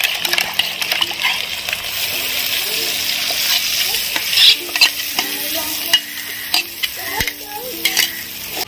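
A spoon stirs masala for prawn ghee roast in a pan, scraping and clinking steadily against the metal over a constant sizzling fry, close and fairly loud, with no talking.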